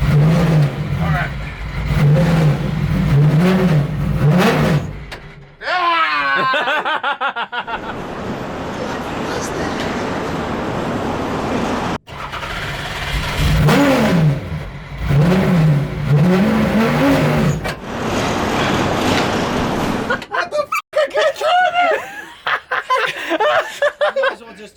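A VW Passat drift car revving hard into a burnout, engine notes rising and falling in bursts with brief cuts, under excited talk and laughter from people inside.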